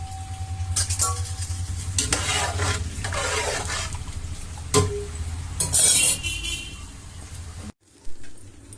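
Rice tipped into a pot of boiling spiced water for paneer biryani and stirred, giving broadband pouring and scraping noise over a steady low bubbling hum, with a sharp knock near the middle and a brief pause near the end.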